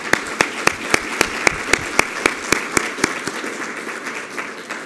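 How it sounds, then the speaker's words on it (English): A conference crowd in Washington, D.C. applauds the event organizers. Sharp, distinct nearby handclaps sound over a sustained wash of applause from the wider audience, steady and fairly loud throughout. "Round of applause for you."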